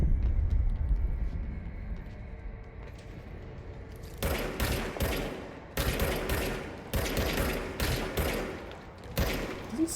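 Bursts of gunfire in the video game Control, several sharp rapid volleys in the second half of the clip separated by short pauses, loud and close, following a quieter stretch with low rumble.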